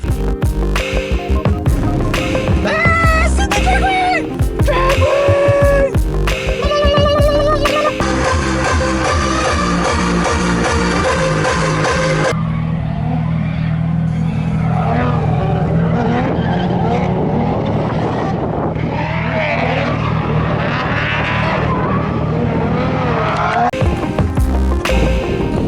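A person vocally imitates revving and roaring car engines over racing-game audio of Forza Horizon 3, with steady, loud, continuous engine-like drones and sweeping pitch changes across the whole stretch.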